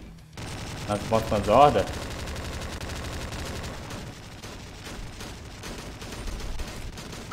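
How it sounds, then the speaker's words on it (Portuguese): Machine gun fire in Slendytubbies 3 rattles on as a dense, continuous stream of rapid shots, loud and steady, with a voice speaking over it. "Vou usar a munição de metralhadora, cara, que eu não vou mais usar essa arma mesmo"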